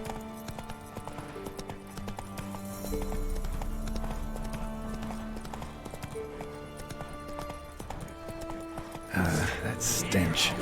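In The Witcher 3 video game, the horse Roach gallops with rapid, rhythmic hoofbeats under orchestral game music, and a louder rush of hooves and action closes the passage.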